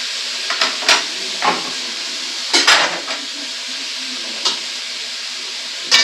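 Potatoes and tender cauliflower stalks frying together in a pan for a cauliflower curry: a steady, close sizzle punctuated by several brief scrapes and clinks of the spatula.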